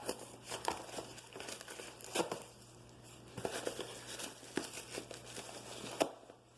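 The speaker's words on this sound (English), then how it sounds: "I have to sort of pull this to my body and start ripping parts of the box off" A cardboard box being torn apart by hand, with irregular crinkling, ripping and crunching bursts separated by short pauses, close but fairly quiet.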